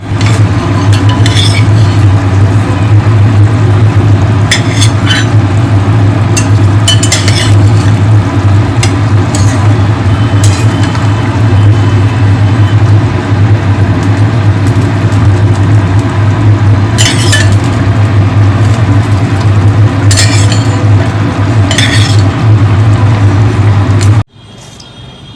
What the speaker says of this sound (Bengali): এবার এটা টকবক করে ফুটবে।